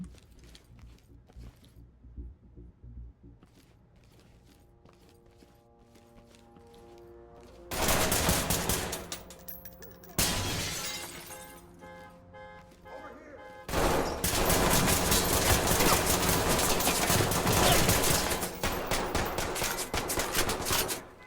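Gunfire in the tactical shooter game Ready or Not. Quiet music gives way to sudden loud bursts of rapid shots, a short volley, a pause, then a long sustained barrage.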